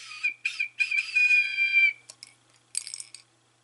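A whistle blown to imitate a weird eagle call: several shrill, close, warbling blasts in quick succession, then a few faint chirps and a final trilling burst.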